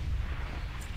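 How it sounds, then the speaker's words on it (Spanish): Fireworks are set off inside a cave in World of Warcraft, Warlords of Draenor, making a dense, heavy rumbling blast that fills the whole moment, loud and continuous with no talk over it. "dispara fuegos artificiales en una cueva"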